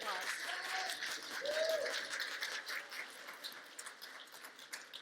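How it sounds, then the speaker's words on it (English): Audience applause at an evening gala banquet, a broad patter of clapping from a large room that swells, then gradually thins and fades, with faint voices and a short vocal sound mixed in. "Round of applause."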